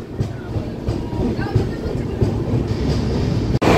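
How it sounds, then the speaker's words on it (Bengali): Rupasi Bangla Express passenger train on the move, heard from inside a second-sitting coach: a steady low rumble with rhythmic wheel clatter and a faint metallic squeal, close and continuous, with murmuring voices in the background. "ট্রেন পুরো আমাদের রাইট টাইমে ছেড়ে দিয়েছে।"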